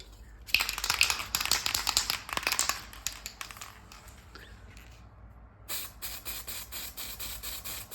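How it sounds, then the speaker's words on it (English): Gold acrylic spray paint hisses from an aerosol can in a few close, loud bursts, the first long and sputtering, then a pause and a second steadier spray toward the end. "let's spray it with gold acrylic paint"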